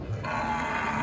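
A single low, drawn-out moo from a thin cow sounds close by, steady and droning from start to finish.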